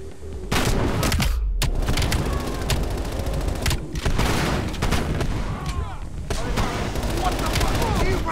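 Rapid bursts of automatic gunfire and shots in Call of Duty Black Ops Cold War, loud and dense across the whole stretch with brief pauses, a voice speaking underneath.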